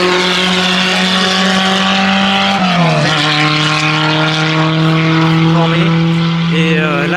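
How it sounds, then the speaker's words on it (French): A Renault 8 Gordini with its 1255 cc Gordini engine drives past on the Linas-Montlhéry circuit, a loud sustained engine drone whose pitch drops sharply as it passes close by. "Et là, on a la fameuse Renault 8 Gordini qui arrive."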